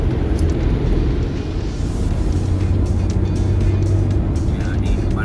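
A car driving on a road at night during an overland trip, heard from inside as a loud, steady low rumble with road noise throughout and people talking over it.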